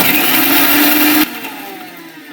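A kitchen mixer grinder roars loudly as it grinds dry red chillies in its jar, then cuts off abruptly halfway through. A faint hum is left trailing after it stops.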